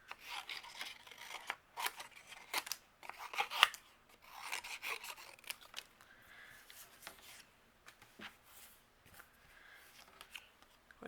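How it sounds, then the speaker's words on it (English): Scissors fussy-cutting around stamped paper shapes for a handmade card, a steady run of close, dry snips and rasping paper cuts, louder at first and then softer and sparser, with no talking. "use our scissors and fussy cut around these"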